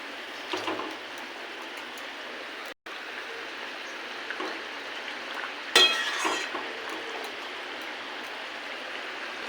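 Rohu fish goes into a boiling curry with drumstick and potato, giving a steady close sizzle and bubbling with a brief clatter of utensils and a sharper splash partway through.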